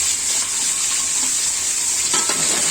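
Steady bright sizzle of chili peppers dropped into hot oil for a Bengali mustard-paste fish dish. The frying hiss is continuous and close, with a few light stirring or clinking sounds toward the end.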